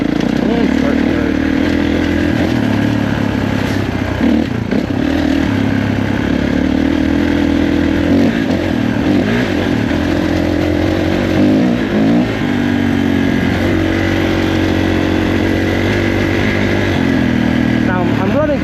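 A 2021 Kawasaki KX450 dirt bike engine drones loudly and steadily on a trail ride in third gear, with wind rush and a rider's voice talking over it.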